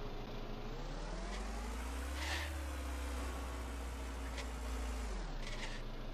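Car engine in the Trader Life Simulator game droning steadily under driving, its pitch rising and falling as the vehicle maneuvers, then easing down toward the end as it parks.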